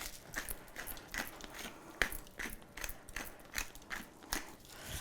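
Quiet gritty crunching from a pepper grinder twisting in short repeated turns over raw salmon, close and faint.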